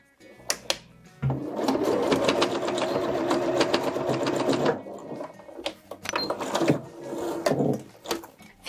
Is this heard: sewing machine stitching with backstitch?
yes